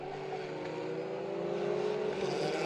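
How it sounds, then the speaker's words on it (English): Formula Ford 1600 race cars at Knockhill circuit, their engines droning steadily at racing speed, a continuous layered whine of several cars with no speech over it. "Lucas Romanek ahead of Jamie Sharp, again around the outside, trailing on the brakes there"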